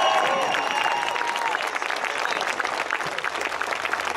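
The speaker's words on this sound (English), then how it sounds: "Let's give another round of applause." An outdoor crowd at a march against Monsanto applauds steadily after a senator's speech. The clapping is a dense wash, with a few cheers or whistles at the very start.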